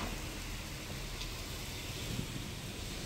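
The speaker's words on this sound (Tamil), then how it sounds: "அவ்வளோத்துக்கு மழை கொட்டுது" Heavy rain pours steadily onto a flooded street in Nallur, Jaffna, a dense, even hiss filling the whole stretch with no breaks and no voices.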